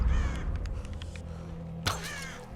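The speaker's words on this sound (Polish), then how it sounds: "A, ptaka trafiłem." A crow shot in the Tomb Raider video game lets out a sharp caw, preceded by faint game ambience and a low rumbling background hum.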